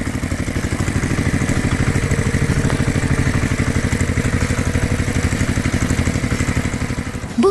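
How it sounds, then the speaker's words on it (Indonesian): A red tractor engine roars steadily at close range, a loud, even mechanical throb with a fast rhythmic pulse running unbroken from start to finish, no voices. "Suara mesin menggelegar"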